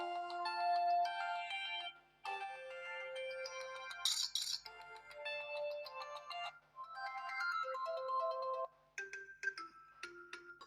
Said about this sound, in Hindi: रिंगटोन चलाकर देख लेते हैं कैसी क्वालिटी हमें मिलती है यहाँ पर